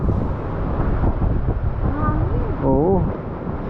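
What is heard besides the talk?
strong wind during a typhoon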